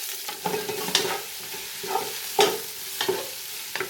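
Four sliced onions sautéing in a pan for Bombay-style dum biryani, a soft sizzle broken by distinct scraping and clacking strokes of a spatula at uneven intervals, close and without speech.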